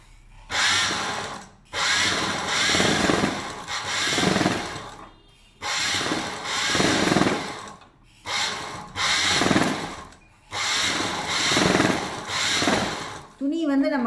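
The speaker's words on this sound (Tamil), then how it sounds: "நான் உங்களுக்கு இப்போ இந்த பிளவுஸில் படிவு தையல் போட்டுட்டு சொல்லித்தரேன்." A sewing machine stitches a blouse in repeated bursts of rapid mechanical whirring, each run lasting a second or two and separated by short pauses, heard close up.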